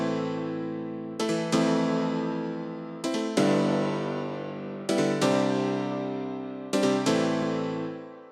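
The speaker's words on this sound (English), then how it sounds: "So in the intro, I actually made these chords" Long sustained piano chords from a 90s house track, four chords struck at an even pace, each one ringing and slowly fading before the next, with no other sounds.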